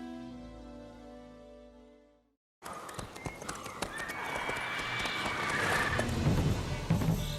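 A sustained tonal drone cuts to silence, then Roach the horse from The Witcher 3 trots with close, rhythmic hoof clip-clops and an occasional whinny, growing louder.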